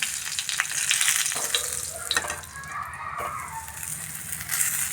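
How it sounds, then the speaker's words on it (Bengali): Eggplant pieces frying in a pan as part of a spiced eggplant masala, giving a steady close sizzle with occasional stirring scrapes throughout, no voices. "দেখুন খুব সুন্দরভাবে ফ্রাই হয়ে গেছে বেগুন"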